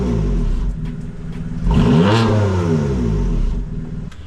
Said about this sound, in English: Stock exhaust sounds pretty good.